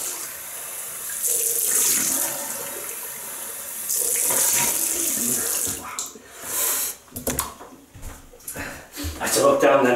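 Running tap water rinses a shaving brush at a sink, a steady near splash that breaks into uneven bursts and drips toward the end.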